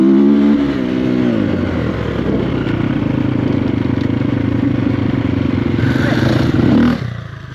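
A Triumph TF250-E enduro motorcycle is ridden on an enduro day, its loud buzzing engine revving and holding steady for several seconds close by, then dropping away abruptly near the end.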